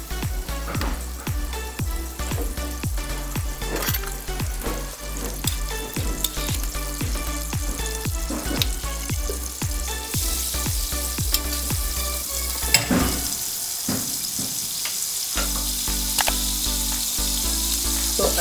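Butter sizzles and melts in a preheated pot before popcorn corn is added. A dense, continuous crackling sizzle runs throughout, with stirring scrapes and a brief dip near the end.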